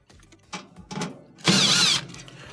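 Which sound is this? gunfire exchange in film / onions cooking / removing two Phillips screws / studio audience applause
removing two Phillips screws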